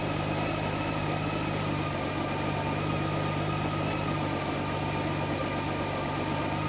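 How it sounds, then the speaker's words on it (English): Honda Goldwing motorcycle engine idling through its warmup, a steady, close, continuous rumble with an even low drone and no breaks or speech. "So it's come down to almost a normal idle."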